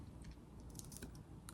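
Someone bites into a veggie spring roll, giving quiet, close crackly crunches and chewing over a soft background hum.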